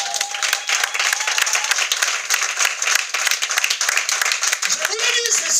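A church congregation claps and acclaims loudly and steadily, a dense wall of applause mixed with crowd voices throughout, and a few voices rise clearly near the end.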